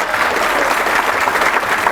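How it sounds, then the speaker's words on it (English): Sustained applause from a large audience at a high school athletic Hall of Fame induction ceremony, steady and dense clapping filling the room for the full stretch with no voices over it. "a huge round of applause for the Hall of Fame committee, please"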